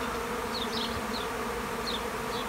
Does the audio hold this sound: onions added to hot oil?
no